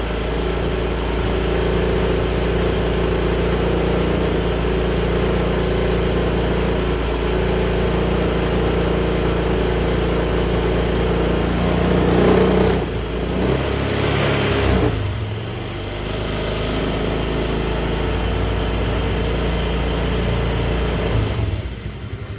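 A car engine runs steadily during a radiator thermostat check, a constant droning idle with a couple of short dips and surges as the throttle is blipped, heard close with no talking.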